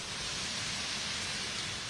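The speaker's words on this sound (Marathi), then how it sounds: "मुंबईमध्ये रात्रीपासून मुसळधार पावसाला सुरुवात झालेली आहे आणि आता देखील पावसाचा जोर आहे" Heavy monsoon rain pours down steadily over Mumbai, a dense, even hiss of downpour that holds at constant loudness throughout with no voices.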